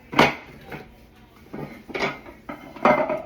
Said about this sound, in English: Now the moment of truth, let's flip it.